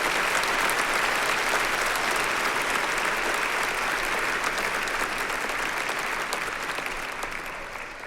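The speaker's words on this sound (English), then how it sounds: "We'll clap for that." An audience at a children's choir 30th anniversary concert applauds in a full, sustained burst that holds steady for several seconds and tapers slightly at the end, with no speech.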